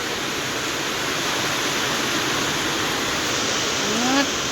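Rain pours down steadily in a dense, even hiss close around, with a faint voice and a brief rising tone near the end.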